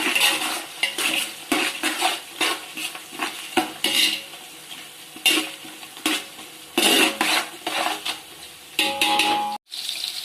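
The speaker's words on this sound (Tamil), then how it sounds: "வெங்காயத்தோடு சேர்த்து இந்த பச்சை மிளகாயும் வதக்கணும்." Onions and green chillies are sautéed for chicken biryani, heard as repeated bursts of scraping and stirring against a metal pan in an irregular rhythm, with a soft sizzle between the strokes.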